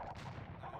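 Bombard cannons fire a volley in the video game Age of Empires 2, a loud, dense booming burst that fills the short moment close up, with no talk over it.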